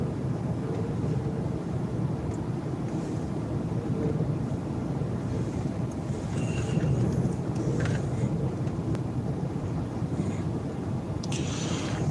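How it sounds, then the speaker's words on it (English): Strong wind gusts near 50 mph sweep across the Texas Panhandle, a continuous loud roar and rumble buffeting the microphone with no letup. "That's some strong wind"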